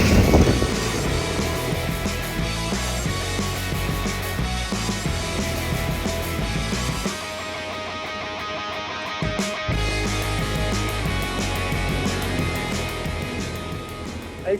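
A Yamaha Tenere 700 motorcycle ridden without luggage gives a steady engine drone mixed with heavy wind buffeting on the microphone, dipping briefly midway before resuming.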